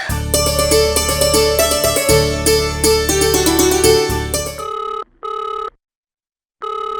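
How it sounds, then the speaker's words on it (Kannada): A telephone rings repeatedly and goes unanswered: several loud, clear ring bursts play over a steady musical underscore in a TV drama scene, then the music cuts out and the ringing continues alone in short bursts separated by pauses. "ಫೋನ್ ರಿಂಗ್ ಆಗ್ತಾನೆ ಇದೆ, ಯಾರು ಎತ್ತದೇ ಇಲ್ವಲ್ಲ"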